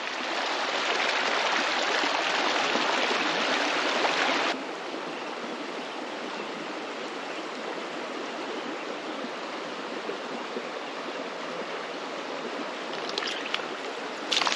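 A creek flows steadily in autumn, a close, broad rush of running water with a louder stretch at the start, then an even, continuous babble; no talk.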